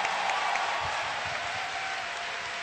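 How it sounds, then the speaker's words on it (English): Convention panel audience at BronyCon applauding, a dense, steady roar of clapping from a large crowd, moderately loud and continuous throughout. "Give him a round of applause."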